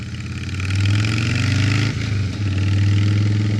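A motorcycle rides through Toronto traffic while lane splitting, its engine droning steadily close up. The revs ease briefly once and then climb again, with wind rushing behind and no talk.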